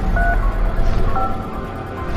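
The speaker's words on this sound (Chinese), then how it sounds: "在男人的记忆中确实出现了电话按键的声音" Telephone keypad tones being dialed, a few short steady beeps in quick succession over a low rumbling backdrop.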